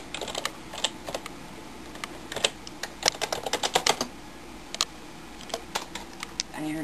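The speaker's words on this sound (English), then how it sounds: "Go ahead and type the password here." A password being typed on a computer keyboard while booting Linux from a flash drive, a close run of irregular crisp key clicks with brief pauses between them.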